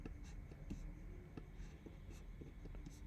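A pen scratches on paper as math is worked out by hand, soft repeated strokes and small taps that come in short bursts, quiet and close, with no talking over them.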